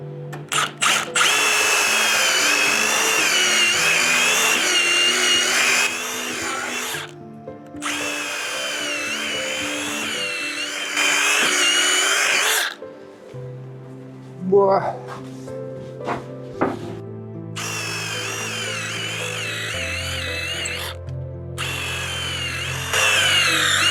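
A power drill drives screws into oak outdoor furniture in loud whirring bursts of several seconds each, separated by short pauses with lower motor tones and clunks. Someone speaks briefly between the runs.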